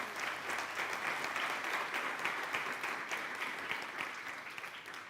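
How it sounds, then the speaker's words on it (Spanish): A church congregation applauds steadily, a dense, even wash of many hands clapping that holds at full strength throughout without pause. "Dale ese aplauso al Señor."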